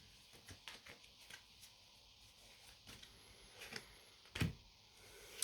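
Tarot cards being shuffled and drawn during a Leo love reading, heard as soft, scattered riffles and flicks of card stock in a quiet room, with one sharper slap of cards near the end.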